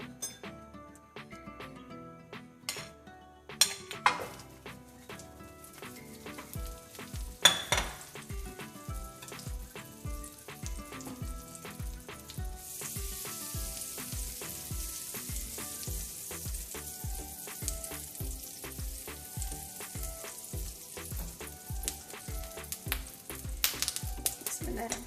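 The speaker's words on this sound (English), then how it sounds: "Then we're going to add some butter." Butter with a spoonful of oil sizzles in a pan for gluten-free pancakes and waffles. A quiet hiss swells noticeably about halfway through, accompanied by a long run of regular, sharp clinking taps throughout.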